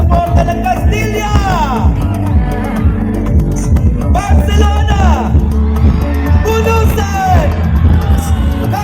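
A large crowd of supporters at a dance event shouts and cheers loudly and continuously, with yells and whoops rising in bursts over a steady roar, mixed with music and an amplified announcer's voice.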